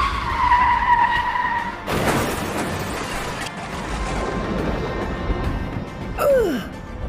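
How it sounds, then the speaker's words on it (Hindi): A car skids as its driver suddenly brakes in a Free Fire game story, a rising tire squeal and rushing noise followed by a short sharp screech near the end, loud throughout with no talk. "उसने अचानक ही ब्रेक लगा दिया"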